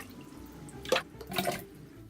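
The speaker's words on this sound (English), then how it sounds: "Drip, drip, drip, drip, drip." Water drips and splashes in two short bursts of wet, splattering sound, fairly close, with no voices.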